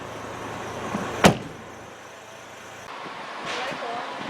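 A car door swings shut in one sharp, close thud, followed by quiet road and engine background and a faint later rustle.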